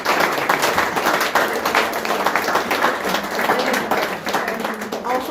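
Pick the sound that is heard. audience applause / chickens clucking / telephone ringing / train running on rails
audience applause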